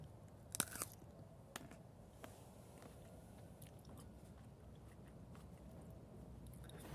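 A crunchy grape berry of the Taldun variety is bitten, giving a few faint crisp crunches at the start followed by quieter chewing against a low steady background, with no talking.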